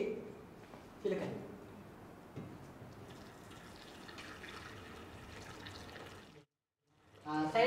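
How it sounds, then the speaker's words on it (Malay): Hot water is poured little by little into a container holding a model thermometer in a physics lesson on thermal equilibrium. It makes a quiet, steady trickle lasting several seconds, with faint room sounds around it. "menuangkan air panas ini sedikit"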